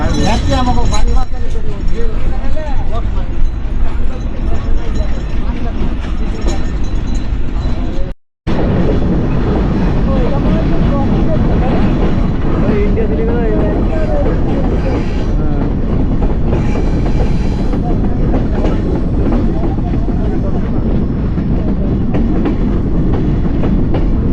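A train runs along the line between Chuadanga and Darshana stations in Bangladesh, with steady loud rolling rumble close by, a brief dropout partway, and people talking over the noise throughout.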